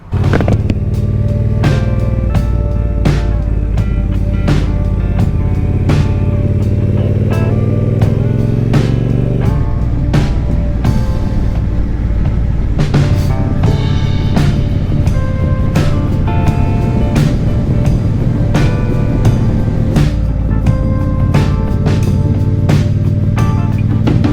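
A motorcycle engine roars steadily at close range, with gear changes and revving under heavy wind rush, loud and continuous throughout.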